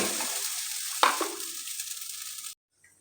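Chitoi pitha cooks in a kadai on a gas stove, giving a steady close sizzle with a sharp crackling burst partway through, then fading and cutting off to near silence.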